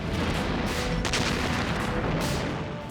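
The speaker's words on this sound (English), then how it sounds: "The city is blasted by Soviet artillery and aircraft in preparation for the final assault on the capital of the Thousand-Year Reich." Soviet artillery and aircraft pound a city ahead of the final assault on Berlin, a dense, continuous roar of distant explosions and rumbling booms filling the whole stretch loudly.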